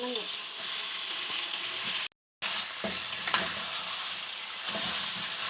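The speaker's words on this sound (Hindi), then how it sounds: "सबसे पहले हम चिकन को फ्राई कर लेंगे।" Chicken pieces frying in hot cooking oil for a Peshawari charsi karahi, a close, steady hiss and sizzle with a few utensil knocks and a brief silent gap partway through.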